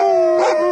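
Excited huskies let out a loud, close, sustained howl with a yip mixed in, a brief burst of canine vocalizing.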